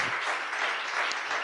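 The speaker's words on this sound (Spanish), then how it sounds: "otro aplauso al Señor Jesús" A church congregation applauds during a sermon, producing a dense, continuous patter of many hands clapping at once, fairly loud and steady, with no speech.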